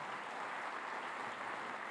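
A steady wash of clapping from an audience, sustained and even throughout the short stretch, with no voices standing out.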